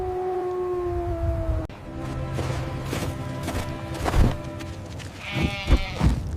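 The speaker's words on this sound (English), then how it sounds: "Giant gray polar mountain goat." A mountain goat bleats in several wavering, drawn-out calls, loud and close, the later cries shorter and higher, heard alone without talk.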